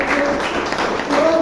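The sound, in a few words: audience applause at Toastmasters meeting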